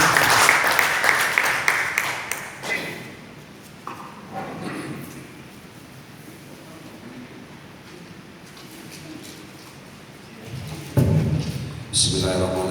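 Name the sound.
audience applause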